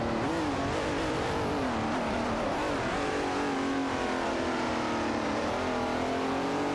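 Race cars in an AI-driven racing video game, among them a 1972 De Tomaso Pantera GTS and a 1971 Dodge Charger Super B, their engines droning and revving loudly and continuously with shifting pitch as they battle.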